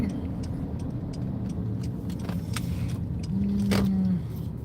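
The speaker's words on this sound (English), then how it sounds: "I am driving safely. I have my hands on the steering wheel." A car interior while driving holds a steady low road and engine rumble, with a brief tonal whine near the end and small clicks, close and continuous.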